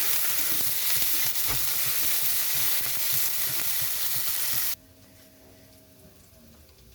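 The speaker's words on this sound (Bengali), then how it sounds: "তো এখানে রসুনটা একটু ভাজা হয়ে গেছে। এখানে দিয়ে দিচ্ছি আদা, দিয়ে দিচ্ছি পেঁয়াজ" Garlic, ginger and onion frying in hot oil for a spicy fish roe dish, a loud, close, bubbling sizzle with spoon stirring that cuts off abruptly, leaving quiet room tone.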